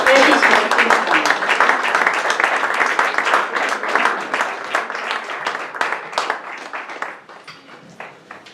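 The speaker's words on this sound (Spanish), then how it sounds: "Un fuerte aplauso para Félix Martín Franco." An audience applauds Félix Martín Franco at a poetry reading and book launch, a loud, dense wash of clapping that gradually thins and fades toward the end.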